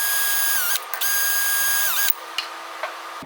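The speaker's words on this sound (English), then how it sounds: "instead of using the hand Allen key, which is a little bit slower, I'm going to use a drill just to speed things up" A power drill drives bolts into the top plate of a Maxwell table base, its motor whining steadily in close, loud bursts separated by brief pauses, with small mechanical clicks at the end.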